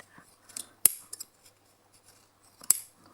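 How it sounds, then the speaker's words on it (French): Scissors cut wool yarn into pieces for a knotted rug, making sharp, crisp snips, with two loud cuts and a few lighter clicks close by in a quiet room. "je coupe mon fil"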